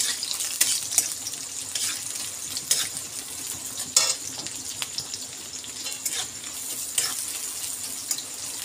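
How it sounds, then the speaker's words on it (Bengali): Chopped onion fries in hot oil, a steady close sizzle with scattered crackles and a few sharper spatters or stirring scrapes throughout; no one speaks. "তো চলো আমি পেঁয়াজটা একটু হালকা ভেজে নিই।"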